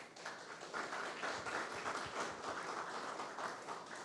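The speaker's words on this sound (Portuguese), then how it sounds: "Aplauda o Senhor Jesus." A church congregation applauds, a dense, steady wash of clapping from many hands that fills the space for several seconds.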